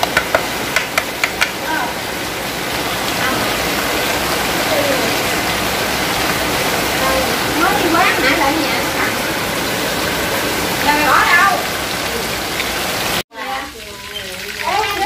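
Heavy rain pours down steadily in a stormy outdoor setting where seafood is being cooked, a dense, loud wash of water noise under scattered voices, cut off briefly near the end.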